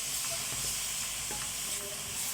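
Orzo pasta being sautéed and stirred in a pan, a steady soft sizzle with light scraping stir sounds throughout, no talking.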